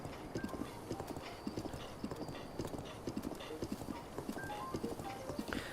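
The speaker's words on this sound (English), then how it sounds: "just let the horse follow the road here" Horse hooves clip-clop along a road in a video game, a steady rapid rhythm of crisp distinct hoofbeats at walking pace, moderately close and continuous throughout, with faint ambient background and no talking.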